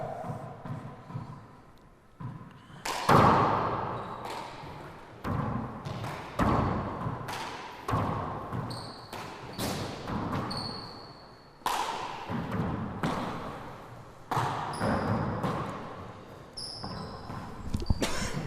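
Racquetball shots in a women's final, the ball smacking the front and side walls in sharp, irregular thuds with squeaky shoe chirps, echoing through an enclosed court over a steady hall murmur.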